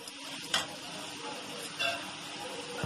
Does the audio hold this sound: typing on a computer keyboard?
no